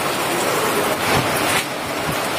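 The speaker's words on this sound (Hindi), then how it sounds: "उत्तरकाशी में भयंकर बारिश हो रही है।" Heavy rain falls in Uttarkashi as a loud, dense, steady hiss of downpour with a few heavier surges, continuous and without speech.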